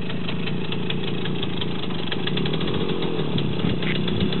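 A Romet Pony motorcycle engine runs steadily as it is ridden back and forth, a buzzing, slightly rough mid-pitched drone that swells a little without pausing, heard fairly close with no voices.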